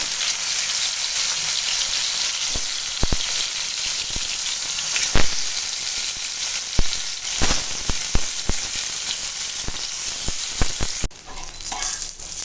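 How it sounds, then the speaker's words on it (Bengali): Ash gourd leaves frying in oil in a wok produce a dense, continuous crackling sizzle, close and loud, dotted with sharp pops and clicks. "এখন কড়াতে তেল দিয়েছি এবার এই পাতাগুলো ভেজে নেব"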